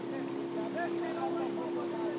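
Motorboat engine droning steadily on the Danube Delta, a low constant hum with wind and water noise, heard from aboard the boat, and a voice talking over it.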